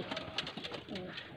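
Faisalabad low flyer pigeons coo softly in a loft, a few low murmuring calls rising over steady background noise, fairly close.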